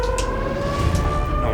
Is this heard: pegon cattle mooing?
no